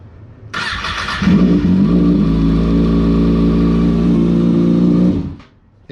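A motorcycle with about 3,200 miles fires up at once and settles into a loud, steady idle with a slight rev. The engine is close and heard alone for about five seconds before it cuts off.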